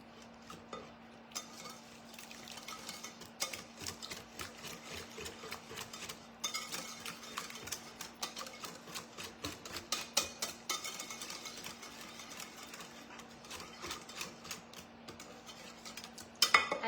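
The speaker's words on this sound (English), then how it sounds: "Now we're just gonna whisk and whisk and whisk." Egg yolks, lemon juice and condensed milk whisked together in a bowl for a lemon berry tart filling: a long run of quick, rhythmic metallic ticks and clinks from the whisk against the bowl, steady and fairly close, no talking.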